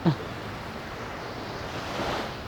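Steady roar of surf washing onto Kuta Beach, Bali, with a brief thump at the start and the wash swelling slightly near the end.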